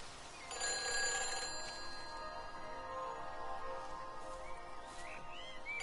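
Telephone bell ringing steadily in the video game Everybody's Gone to the Rapture, set in the village of Yaughton in Shropshire, a loud bright repeating ring that carries on for several seconds with no talk.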